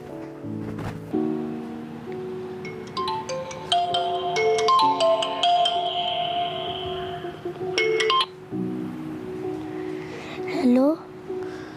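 A telephone rings in a domestic setting with a melodic electronic ringtone, a repeating pattern of tones lasting several seconds, fairly loud and clear before a short pause, with faint background noise.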